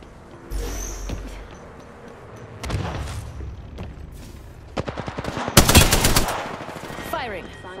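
Gunfire in the video game Apex Legends, with bursts of rapid automatic shots and single cracks at close range, loud against a quiet background.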